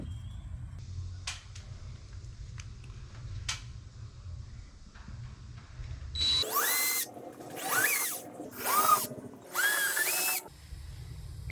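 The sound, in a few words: power drill drilling anchor holes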